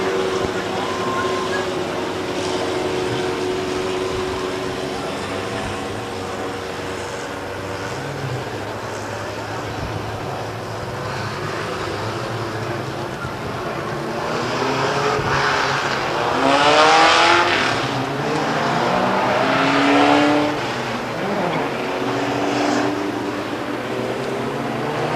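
Race cars circle Stockton 99 Speedway, a continuous roar of engines rising and falling as they pass, with a public-address announcer talking over the track noise throughout.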